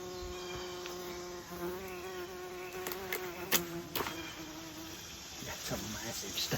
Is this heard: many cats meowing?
no